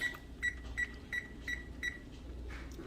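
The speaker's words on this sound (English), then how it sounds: "This how you turn on the timer, right?" A kitchen oven timer being set gives six short, evenly spaced electronic beeps about a third of a second apart, close and clear over a low background hum, with no talking.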